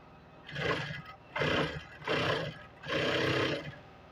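A sewing machine stitches a shirt collar in four distinct bursts of motor whir and rapid needle chatter, each about half a second to a second long, separated by short pauses, close and clear with no talking.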